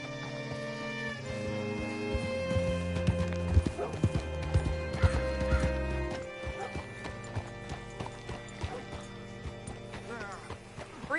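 Horse hooves clip-clopping in Red Dead Redemption 2, close and loud as the animal steps unevenly and slows, with a brief whinny and someone talking over the footfalls.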